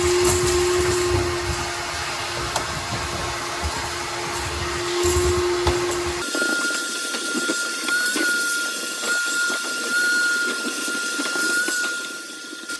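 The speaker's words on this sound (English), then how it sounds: "take a shop vac and just suck all of this" A shop vac sucks debris out of a dryer duct with a loud, continuous whining roar. Partway through, its tone shifts abruptly to a higher pitch as the airflow changes, with rattling of material through the hose.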